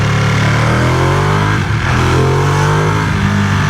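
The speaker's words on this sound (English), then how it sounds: "hoping that we get some cool engine noises" A vehicle engine revs steadily and loudly up close, recorded through a wireless microphone in a helmet, a continuous droning roar with a slight dip midway and no speech.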